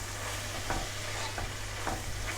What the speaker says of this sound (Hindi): अच्छी तरह से मिक्स कर लें सारे मिर्चें और लहसुन को।